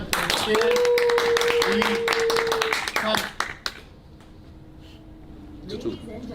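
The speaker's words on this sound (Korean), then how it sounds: "박수를 드리겠습니다." A group claps in quick, dense bursts for about three seconds, with a sustained tone over the top, then the clapping breaks off into quieter scattered sounds and a few faint voices.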